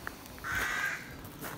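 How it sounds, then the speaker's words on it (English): Crows caw nearby, a couple of harsh drawn-out calls standing out over faint outdoor background noise. "Noisy crows."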